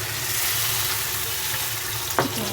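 Potatoes dropped into a pan of hot oil fry with a steady, close sizzle, with one brief clatter near the end.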